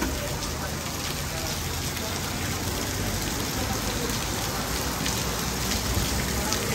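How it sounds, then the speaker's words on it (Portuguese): Steady, dense rain pouring down close by in São José do Egito, Brazil, in August, a continuous hiss with no breaks and no voices. "muita chuva aqui"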